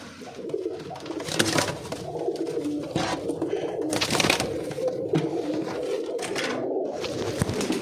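Pigeons being paired as a male and female coo repeatedly close by, soft rolling calls that rise and fall in bursts over a constant background, with no talking.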